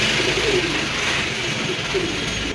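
Soft pigeon cooing against a steady broadband hiss, the low calls faint and intermittent, surfacing a couple of times.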